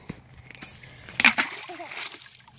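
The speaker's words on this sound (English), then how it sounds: "Big splash." A big rock thrown into water lands with one sharp splash and brief sloshing, close by, as people chatter nearby.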